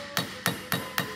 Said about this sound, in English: Well, good thing you figured out after hammering it.